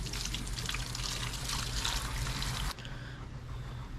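Steady broadband spray of a garden hose rinsing Purple Power-style engine degreaser off a 1996 Ford Bronco engine, continuous and close, briefly stopping then resuming at a lower, softer hiss.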